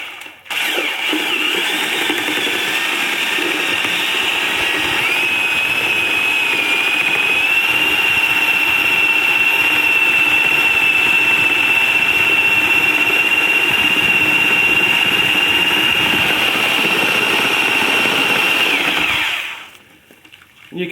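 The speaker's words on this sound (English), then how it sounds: "You can use any type of device that goes in a drill for stirring." A power drill with a bulb planter attachment stirs paper pulp, whirring continuously at high speed for about twenty seconds, a steady loud whine with churning underneath, then winds down and stops.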